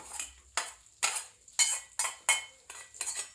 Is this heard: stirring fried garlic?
yes